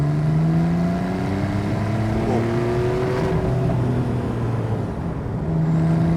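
Porsche 991.2 Carrera GTS in Sports Plus mode accelerating hard in second gear from about 30 mph, a loud continuous engine note with harmonics climbing steadily in pitch as revs rise, heard from close by without talk.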